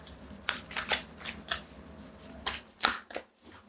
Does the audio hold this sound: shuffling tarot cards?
yes